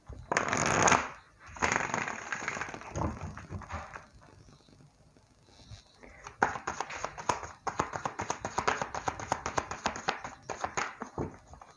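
Tarot cards are shuffled by hand at close range: a bright riffle burst, a quieter pause, then a long run of rapid, rhythmic card slaps and flutters, with no talk.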